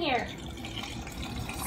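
Gin pours into a container for an olive martini, a brief liquid splash and glug at the start that fades into quieter sound, with a voice talking nearby.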